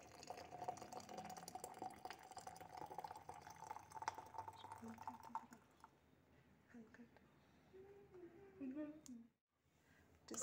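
Hot water poured into a cup with lemon, turmeric and honey to make tea, a soft, quiet liquid trickle with a few drips, fading out near the end.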